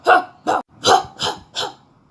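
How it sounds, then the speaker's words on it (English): A small dog barks five times in an even rhythm, each bark sharp and close, with short quiet gaps between them and no talking. "Into his ear, he started barking."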